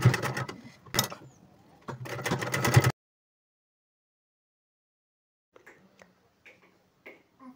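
A sewing machine stitches the side seam of a blouse in close, loud bursts of rapid mechanical clatter for about three seconds. Then it goes quiet, with only a few faint taps and rustles.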